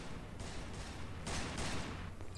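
Faint, distant gunfire crackles in a Garry's Mod WWII roleplay game, two muffled bursts of rapid shots.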